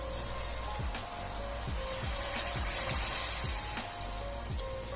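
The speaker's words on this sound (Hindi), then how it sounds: "तकरीबन 4 गिलास के जितना इसमें मैंने पानी डाल दिया है" Water pours into a pot of spiced lentils cooking for daal chawal, a steady close hiss and splash running throughout with faint repeated clinks underneath.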